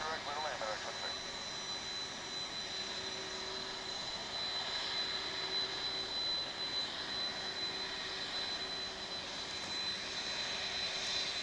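A Boeing 757 jet airliner departs DFW International Airport, bound for Ontario, California. Its engines give a steady, broad roar with a high whine, heard from a distance and holding level throughout.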